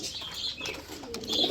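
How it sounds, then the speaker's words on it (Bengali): A male grizzle pigeon coos close by in a short burst of soft, throaty calls, with a faint flutter of other birds around it. "এই যে নটটা ডাকতেছে"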